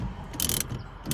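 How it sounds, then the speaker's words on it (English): Ratchet tightening a nut on the steering shaft of a 1977–1990 Monte Carlo, a quick series of close, sharp clicking pawl bursts in about a second. "Tighten your ratchet down."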